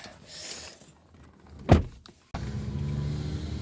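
A car's convertible roof opens: a short mechanical clunk, then a steady electric motor hum that carries on at moderate volume, heard from inside the car with no speech.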